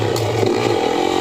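A Yamaha YZ450F dirt bike engine runs in a brief, loud, close burst, its steady droning note shifting slightly as it revs.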